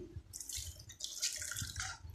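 Peeled onions rinsed under running tap water in a home kitchen, giving a continuous close splashing and trickling with uneven drips, no voices.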